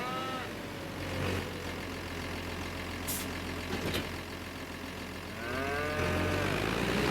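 Cows mooing in the video game Farming Simulator 25, with a drawn-out moo at the start and another near the end over a low engine rumble and farmyard ambience.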